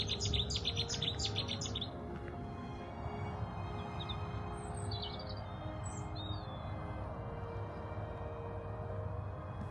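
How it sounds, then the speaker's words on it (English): Birds sing and chirp at a lakeside water park, with a dense burst of high twittering at first, then sparser distant calls over a steady low rumble of outdoor background noise. "With all the birds singing"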